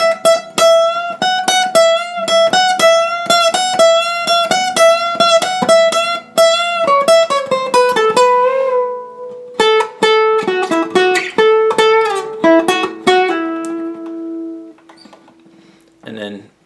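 A guitar slowly plays a picked melodic line from a song, clear ringing notes in a steady rhythm that descends and ends on a sustained chord fading out, with no talking.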